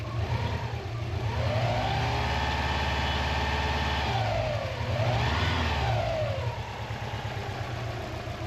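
A Subaru car engine runs steadily and loudly, with its pitch rising and falling in two smooth revs over a constant low rumble.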